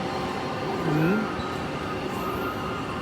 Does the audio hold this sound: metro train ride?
yes